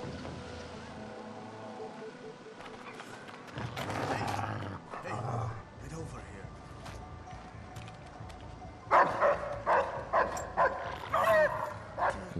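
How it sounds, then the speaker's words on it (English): Dogs bark in a stealth mission of the video game Splinter Cell Blacklist, sharp yelps coming in bursts around the middle and a louder run of repeated barks near the end over steady ambient game noise. "dogs are indeed back, and they can be pretty tough to deal with"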